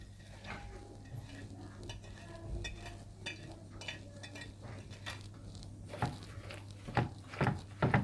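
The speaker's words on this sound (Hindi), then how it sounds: "कुटी लाल मिर्चें, नमक, बेकिंग पाउडर, प्याज, हरा धनिया और पुदीना डालकर अच्छी तरह से मिला लें।" Chicken pakora batter being mixed in a bowl with crushed red chillies, salt, baking powder, onion, coriander and mint: soft, close stirring and squelching, with a few louder clinks and scrapes toward the end over a low hum.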